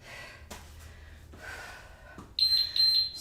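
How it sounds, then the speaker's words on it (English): Heavy breathing and gasps during a strength workout give way to a loud, sharp electronic timer beep that repeats in short pulses near the end. "That beep is so loud."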